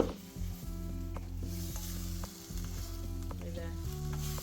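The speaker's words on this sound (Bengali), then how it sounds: "সবজিগুলো ভাজা ভাজিও শুরু করে দিল এখানে লঙ্কা কাঁচা লঙ্কা দিচ্ছি" Cut vegetables and green chilies fry in a kadai, giving a loud, continuous sizzle close by, with the scrape of a spatula stirring throughout and a steady tonal drone underneath.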